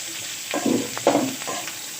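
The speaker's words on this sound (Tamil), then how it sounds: "இப்போ நம்ம எடுத்து வச்சுருக்க பீக்கங்காய் பச்சை மிளகா பூண்டு கருவேப்பிலை இது எல்லாத்தையும் சேர்த்து நல்லா வதக்கி எடுத்துக்கோங்க" Ridge gourd, green chillies, garlic and curry leaves sauté in a pan, with a steady low sizzle and a couple of louder stirring swishes and pops nearby.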